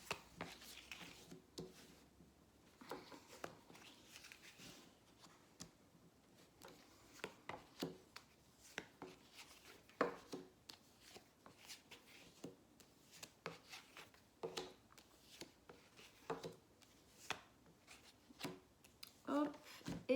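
Tarot deck being cut and shuffled by hand, soft papery slaps, rubs and card flicks in an irregular rhythm, quiet and close, with occasional faint voice in the background.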